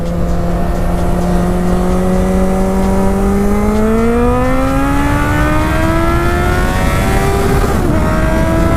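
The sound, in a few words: Suzuki GSX650F motorcycle accelerating up a hill in second gear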